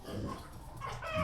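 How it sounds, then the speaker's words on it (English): Chickens cluck on a local farm in Botswana, a short run of close, throaty clucks and murmurs that grows slightly louder at the end. "You look at the chicken."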